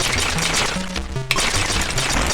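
A ship in Xenon on the Atari ST fires steadily at enemies, with rapid repeated blasts and game music running together at a loud, constant level.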